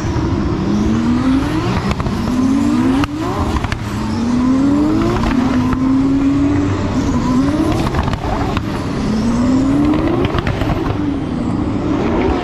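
Formula 1 race cars lapping Spa-Francorchamps during the Belgian Grand Prix, loud engines rising in pitch again and again as they accelerate through the gears, a continuous roar with no voices.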